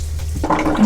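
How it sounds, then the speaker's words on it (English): Water starts running from a newly plumbed faucet inside a converted bus, a sudden close splashing rush that begins partway through the short burst. "And we're going to turn it on. Water is coming out, which is a good sign."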